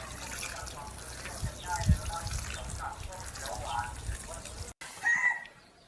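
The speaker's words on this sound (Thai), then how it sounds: "รดน้ำก่อนค่ะ" Water poured from a basin over a flower pot being readied for planting coriander, a continuous splashing, trickling wash up close with someone talking over it and a brief pause near the end.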